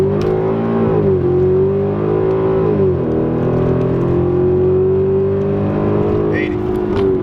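A Genesis V8 with exhaust cutouts open accelerating hard in first gear and up: a loud, steady engine drone rising in pitch, dipping briefly at a gear change around three seconds, then climbing again, heard from inside the car.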